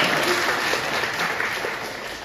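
A theatre audience applauds during a Deyunshe crosstalk comedy matinee at Tianqiao. The dense clapping is moderately close and fades slightly toward the end of the brief burst.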